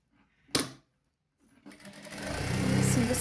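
A sewing machine stitches around a fabric tie for a June festival, starting after a couple of brief clicks and building into a steady, close, continuous whirring run that grows louder toward the end.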